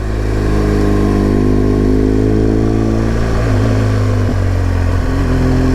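A motorcycle climbs uphill on the Wild Atlantic Way in Ireland, its engine droning loud and steady up close, with the pitch dipping briefly as the rider shifts.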